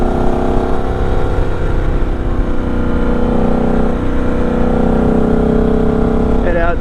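Triumph Scrambler XE motorcycle riding on the road, a steady loud engine drone with constant wind rush throughout, ending in a brief clattering burst.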